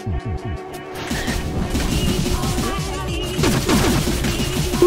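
Rapid bursts of gunfire and crashing impacts in the video game Pizza Tower, loud and dense, with continuous cartoonish game effects filling the whole stretch.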